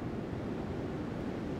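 Ocean waves give a steady, even wash of surf noise, soft and continuous with no distinct breaks and no voices.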